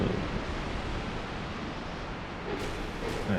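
Loud rushing water in the Rat King's domain of Dark Souls 2, a steady broadband roar filling the whole stretch without breaks.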